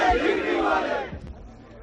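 A crowd at a Gilgit election campaign rally shouts slogans together in a loud, brief roar of many voices that fades off toward the end.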